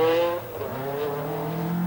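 An Austin Metro 6R4 rally car on a forest stage of the 1985 RAC Rally, its engine revving hard and then dropping in pitch as it passes close by, loud and alone.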